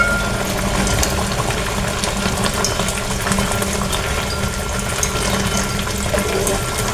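Water coming to a rolling boil in a cooking pot, a steady, dense bubbling and rushing hiss that holds constant and fairly loud throughout, with no voices.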